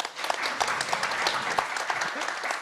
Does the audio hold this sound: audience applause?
yes